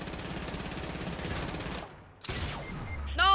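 Gunfire in Fortnite Battle Royale: a dense stretch of rapid shots, then a short silence, a sharp blast with a falling whoosh, and a bright ringing burst at the end, all loud and close.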